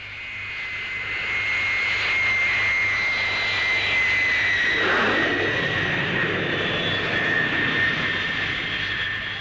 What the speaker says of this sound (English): The Victor B-1 is powered by 4 Armstrong Siddeley Sapphire jets and has immense striking power.